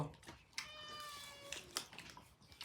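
A cat meows clearly nearby, a drawn-out call followed by shorter cries, with faint background noise.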